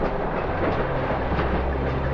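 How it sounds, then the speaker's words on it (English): A freight train rolls past in The Longest Journey, near a city park under a huge rusty iron bridge. It is a loud, steady rumble with a continuous rhythmic clickety-clack of wagons, close by and unbroken throughout. "Those freight trains pass by at least once every 5 minutes all day long."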